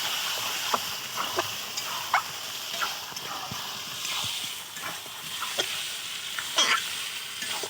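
Chicken stir-fried in a pan for a red-gravy chicken and potato curry: a steady sizzle with repeated scraping strokes of a spatula stirring the meat at close range.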